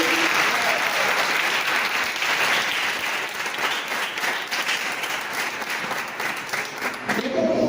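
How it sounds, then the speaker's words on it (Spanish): Congregation at an evangelical church service breaks into loud, sustained applause, a thick continuous roar of clapping from many people up close, easing near the end, with scattered voices and cheers mixed in. "Denle un aplauso al Señor."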